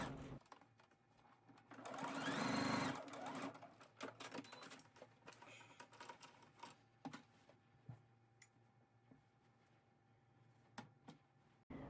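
A home sewing machine top stitching the bodice of a dress runs in a close, quick whirring burst, followed by lighter ticking and clicking handling sounds.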